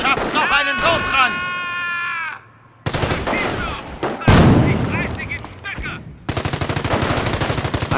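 Machine gun bursts rattle in Company of Heroes, a rapid rhythmic stutter of shots that grows loud toward the end, mixed with shouted soldier voices and battlefield noise.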